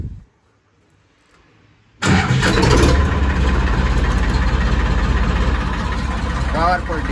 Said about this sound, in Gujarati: અમે ફટાફટ આપણે પેલા ટ્રેક્ટરને સ્ટાર્ટ કરીએ